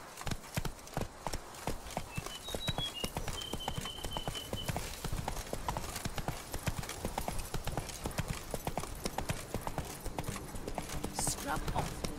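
Hoofbeats of a horse galloping in The Witcher 3 video game, a steady rapid clip-clop running throughout under game music and effects, with a voice speaking briefly over it.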